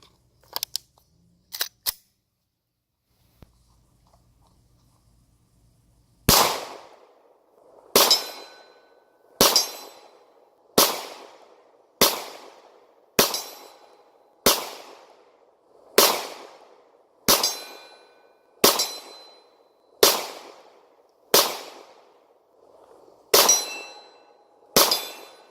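Ruger 9mm pistol, an EC9s or Security 9, fired outdoors in a steady string of about fourteen sharp, loud shots spaced roughly a second apart, each with a short ringing decay, after a few faint clicks of handling.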